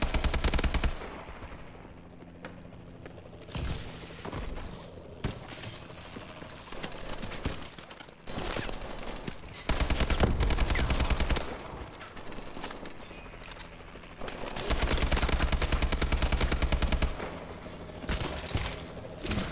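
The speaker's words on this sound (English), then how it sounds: "all of these guys shooting me at once might" Dense enemy gunfire in the Call of Duty Exo Survival BioLab map, with continuous bursts of automatic fire and repeated loud shots stacking over one another for the whole stretch, intense and close.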